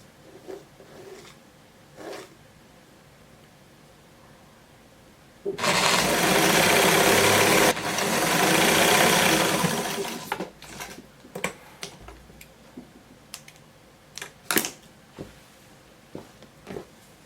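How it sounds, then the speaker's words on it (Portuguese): A sewing machine topstitches a ribbon onto a dress sleeve, running in one steady, loud burst of about four seconds with a brief dip midway, framed by quiet handling clicks and rustles. "Eu estou preferindo fazer nesse momento com o pesponto"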